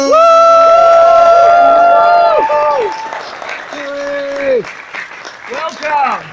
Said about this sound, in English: She is a very talented voice actress who I think deserves a big round of applause from you guys.